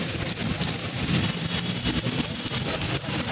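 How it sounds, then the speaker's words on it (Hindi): Heavy rain pours down in a steady, loud roar, a dense broadband wash of falling water with faint low rumbling underneath, continuous and close with no talking. "बारिश देखो बहुत मज़ेदार बारिश हो रही है।"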